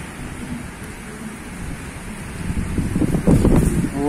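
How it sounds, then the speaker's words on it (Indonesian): Strong wind buffets a seaside fishing spot at Ulee Lheue in Banda Aceh, a continuous rough rumble that swells into louder gusts toward the end, with no voices. "Gawat anginnya."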